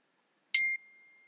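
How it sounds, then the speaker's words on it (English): A phone chimes once with a text message notification, a bright, short ding that leaves a faint ringing tone trailing after it in an otherwise silent room. "somebody just sent me a text message"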